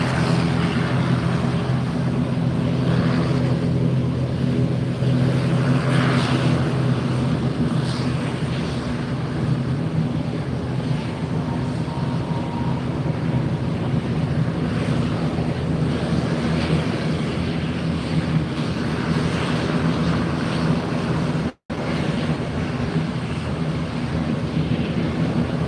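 A Bahamasair ATR 72-600 turboprop departing Fort Lauderdale for Freeport gives a steady droning rumble with a low hum, sustained over the whole stretch, with a brief dropout near the end.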